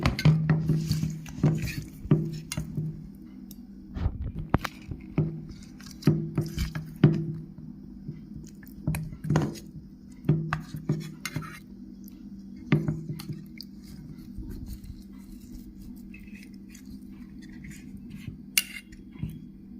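Pieces of rohu fish coated in mustard oil are mixed and rubbed with spices by hand in a bowl, giving soft, wet squishing sounds in an irregular rhythm with occasional light clinks of the dish.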